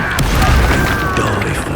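A loud, dense Expulso spell blast in the video game Hogwarts Legacy, close and booming with crackling debris, a single continuous burst of destruction.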